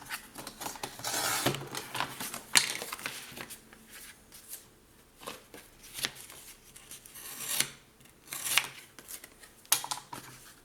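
Scissors snip repeatedly through scrapbooking paper close by, a quiet run of crisp cuts in an uneven rhythm, with no talk.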